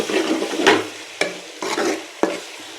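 Food being stirred in a cooking pan, close scraping strokes with sizzling behind them, broken by several sharp knocks of the spoon against the pan.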